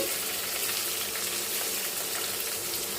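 Cumin, mustard seeds, dried chillies, curry leaves and onion fry in hot oil, giving a steady, close, dense sizzle that holds without a break and with no voices.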